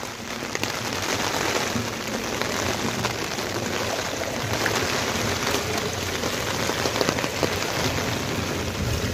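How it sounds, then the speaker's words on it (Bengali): Heavy rain pours steadily onto flooded roads in Bahrain, a dense, continuous hiss with scattered louder splashes, sustained and close throughout with no talking. "প্রচুর বৃষ্টি হইতেছে।"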